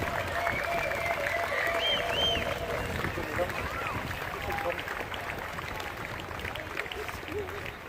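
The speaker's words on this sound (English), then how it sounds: "round of applause, make some noise for France" Sustained crowd applause and cheering at a World Distance Championship prize-giving ceremony, loud and steady throughout with an announcer's voice and crowd babble mixed in.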